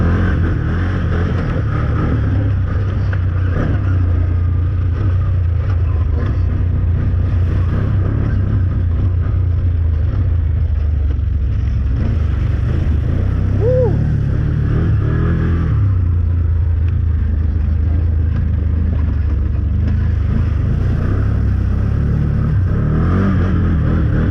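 A Can-Am Outlander 1000 ATV rides rock trails, its engine a loud, continuous close rumble that revs up and eases off with the terrain, and nobody speaks.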